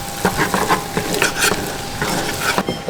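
Homemade taco filling is stirred in a pan, a spoon scraping and clacking in a quick irregular rhythm over a steady close sizzle of frying meat.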